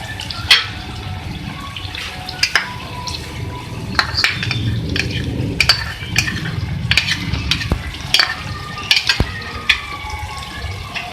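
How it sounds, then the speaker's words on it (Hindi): Yogurt stirred into chicken liver karahi masala in a pan: wet, squelchy stirring with repeated sharp scrapes and clacks of a spoon against the pot, over a low bubbling fry, close and fairly loud. "अब इसके अंदर हम ये ऐड करेंगे दही"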